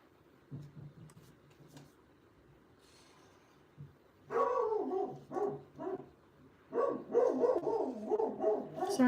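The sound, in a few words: dog barking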